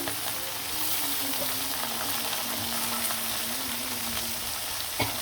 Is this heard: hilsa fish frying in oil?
yes